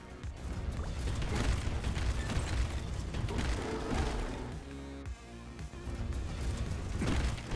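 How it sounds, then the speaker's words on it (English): A boss machine in the game Eastward grinds and booms as a bomb explodes inside it, a steady loud churn of mechanical clanking, ratcheting and rumbling blasts with no talking. "the machine taking in the bomb and exploding internally"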